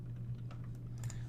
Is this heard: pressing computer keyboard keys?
yes